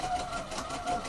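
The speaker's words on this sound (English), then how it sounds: "I'm going to continue sewing all the way around" A sewing machine topstitches bias binding around a garment armhole, a close, steady whirring run of stitching that holds even for the whole short stretch.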